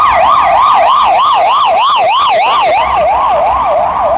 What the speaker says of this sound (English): And the ambulance too.